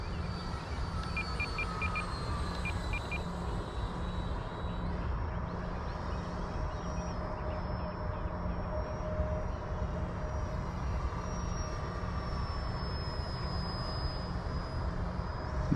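An FMS Futura 80mm electric ducted fan model jet whines steadily in flight, a constant distant rushing hum with shifting high tones, holding at a reduced throttle with no pauses and no talk.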